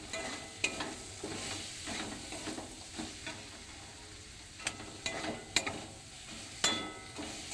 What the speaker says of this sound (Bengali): চিংড়ি মাছটা দিয়ে একটু নেড়ে নেবো